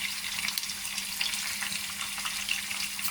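Dried red chilies frying in hot tempering oil, a continuous close crackling sizzle with dense fine spatters and no talk.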